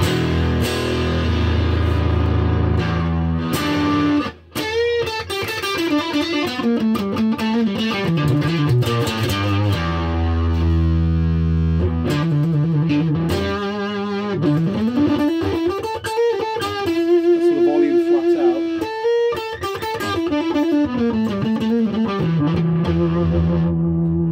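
An electric guitar, a Suhr Strat on the neck pickup, played through a distortion pedal, sustained fuzzy chords and bending melodic phrases ringing continuously, loud and close.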